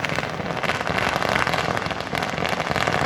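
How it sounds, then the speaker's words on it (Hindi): Diwali firecrackers burst in a dense, continuous crackle, loud and sustained throughout like heavy rain on a surface, with no clear gaps between pops. "पटाखों की आवाज़ आप सुन रहे हैं"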